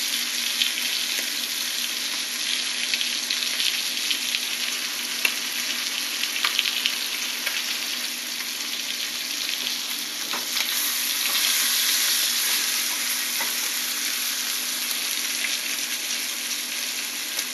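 Steak fries in butter in a hot pan with a steady, close sizzle and crackle that runs unbroken throughout, with no voices.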